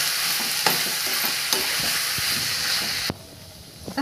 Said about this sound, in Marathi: हे हे सगळं साहित्य आपल्याला छान परतून घ्यायचे.